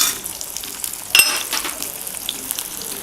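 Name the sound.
sliced onion frying in hot oil in a kadhai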